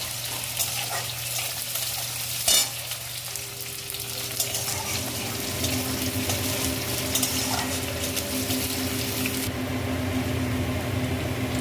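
Chopped onion frying and browning in a pan with oil, a steady close sizzle holding throughout with occasional stirring scrapes and no talking.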